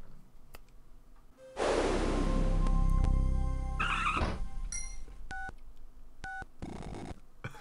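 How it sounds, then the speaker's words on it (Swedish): Telephone dialing tones in the Hugo PC game: a loud burst of noisy static, then a rapid sequence of short, clean beeping keypad tones, each distinct and evenly spaced. "Det var till och med telefonljud på det bara."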